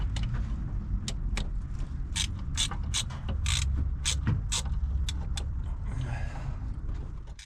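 A ratchet clicks in short bursts, close and crisp, as brake caliper slider bolts are tightened on a Cadillac BLS 2.8 V6 Turbo. About a dozen sharp ratcheting strokes come in an uneven rhythm over a low background hum.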